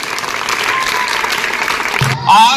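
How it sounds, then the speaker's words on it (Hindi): Schoolchildren applauding together in a school assembly, a steady dense wash of clapping that runs for about two seconds before breaking off into a brief different noise at the end. "आप लोग अपने लिए जोरदार ताली बजाइए।"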